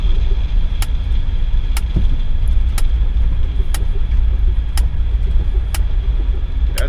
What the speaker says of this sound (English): Ooh, I felt a gear. We're in 2nd gear now.